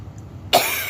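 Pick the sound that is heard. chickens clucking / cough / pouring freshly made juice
cough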